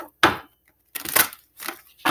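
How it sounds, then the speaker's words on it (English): Four short, crisp riffling bursts of oracle cards being shuffled close by, separated by brief silent pauses. "Two more shuffles."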